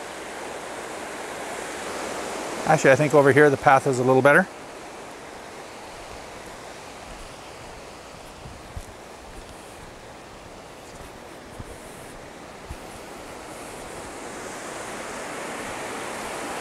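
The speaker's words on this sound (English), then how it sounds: "There's the river." Goat River near Creston, British Columbia, rushes steadily as a broad, even wash of flowing water, with a person speaking briefly near the start over the constant roar.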